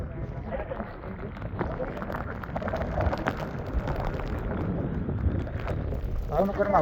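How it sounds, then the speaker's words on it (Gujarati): Heavy rain pours down in Bhavnagar near a lake, a dense, uneven patter with gusty bursts, and voices are mixed in under the downpour. "ભાવનગરમાં ફૂલ વરસાદ."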